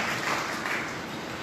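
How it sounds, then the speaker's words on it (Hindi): Applause from a church congregation during a Sunday service at Saint John's, a steady wash of many hands clapping together at moderate volume with no one speaking over it. "तालियां"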